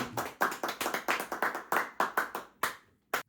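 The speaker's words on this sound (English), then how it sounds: "Clap it up for last week, man." A small group of people clap in a quick burst of sharp, close hand claps that thin out and stop, with one final clap after a short pause.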